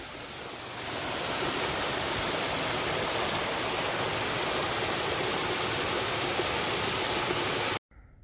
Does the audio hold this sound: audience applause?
no